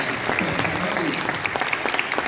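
An audience at a school jazz concert by the bay applauds returning alumni, with steady, dense clapping at moderate distance and a few sharper claps standing out.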